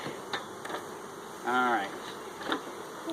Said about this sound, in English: Bees know where the hive is.